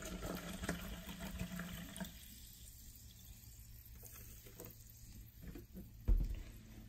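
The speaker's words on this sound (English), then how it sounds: "Let's pour some water in." Arrowhead sparkling water poured into a container: a quiet liquid splash and trickle for the first couple of seconds, then soft fizzing and faint drips, ending with a short thump.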